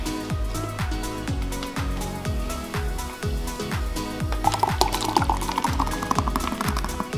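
Beer glugs out of a can into a glass in rapid repeated gulps, a steady rhythmic chugging pour with rising fizz and foam hiss in the last few seconds, close and clear with no talking.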